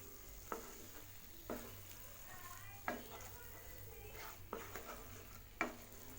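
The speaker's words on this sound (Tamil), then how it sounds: "சிக்கனை போட்டது நல்லா மிக்ஸ் பண்ணி விட்டுக்கலாம் மசாலாவோட" Fried chicken pieces stirred into tikka masala gravy in a pan, with a spoon scraping and clinking against the pan in five distinct strokes under a soft, steady sizzle.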